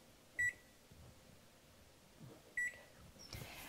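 An oven timer being set gives two short, thin electronic beeps a couple of seconds apart, faint and clean over a quiet kitchen hum, with no speech.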